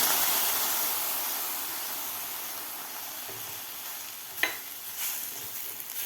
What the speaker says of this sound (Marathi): आता यामध्ये घालायचं आहे आपल्याला केशरचं दूध